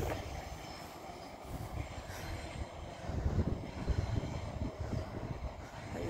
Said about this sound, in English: That going, train going past the castle